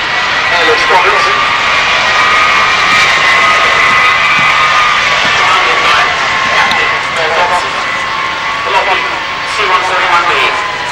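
A C-141B Starlifter of the US Air Force Reserve, out of Charleston Air Force Base, flies past at an air show at RAF Mildenhall, its steady loud jet roar mixed with crowd noise and an announcer talking throughout.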